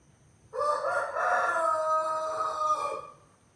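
A rooster crows once at night, a long drawn-out call lasting a few seconds, fairly close against a quiet background.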